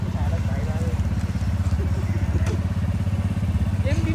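A motorcycle engine runs at a steady, close idle, its low, even throb continuing throughout under faint background noise.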